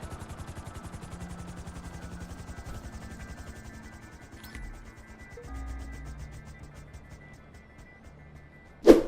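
A helicopter flying in the video game GTA V: a steady rhythmic rotor chop over a low engine drone, continuous and close, with a brief sharp click near the end.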